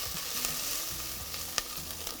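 Fesenjan stew ingredients browning in a hot pan give a continuous bright sizzle and crackle, with a few sharp pops and light stirring scrapes, close and steady throughout.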